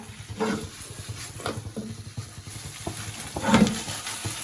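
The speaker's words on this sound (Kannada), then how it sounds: "ಮಿಕ್ಸ್ ಮಾಡ್ಕೊಂಡು ಸ್ವಲ್ಪ 2 ಮಿನಿಟ್ಸ್ ಹಂಗೆ ಫ್ರೈ ಮಾಡಿ" Paneer manchurian frying and being stirred in a pan: soft sizzling under scraping spoon strokes, with a few louder clatters of the utensil against the pan, close and moderate in level.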